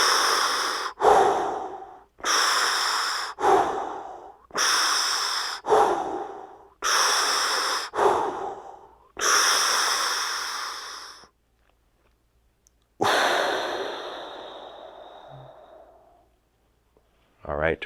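Slow, deep breaths during a yoga twist, hugging one leg to the chest; six long, even inhales and exhales follow one another closely, followed by a pause and one more long breath, close and clear with no talk over them.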